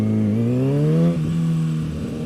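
A motorcycle with a stock exhaust passes close by, its engine note rising steadily as it approaches, then settling lower as it goes past, loud and continuous with no talking.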